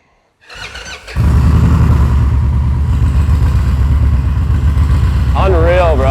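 A custom bagger motorcycle's starter whirs briefly before the engine catches and settles into a loud, steady, throbbing idle close by, with a high squeal near the end.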